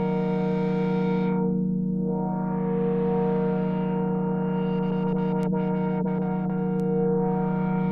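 A FLUX PRO by Caelum Audio modulation effect processing a sustained, distorted synth-like tone, with a sweeping filter texture that rises and falls slowly and a few brief clicks near the end, loud and steady.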